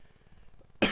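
A single loud cough bursts out at the end from a sick person, following a stretch of quiet low background murmur.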